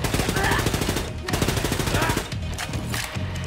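Sustained automatic gunfire in Wolfenstein 2, a loud, rapid stream of shots rattling for several seconds with only brief gaps, close and dominating the mix.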